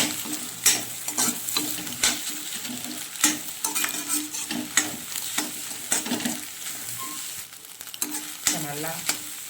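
Eggs frying in a pan with vallarai greens as they are stirred, a steady sizzle under repeated scraping and clinking of the spoon against the pan, close and fairly loud throughout.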